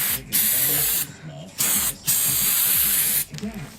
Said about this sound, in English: We got some brake cleaner, and I'm just gonna spray a little bit in here to loosen some of this stuff up.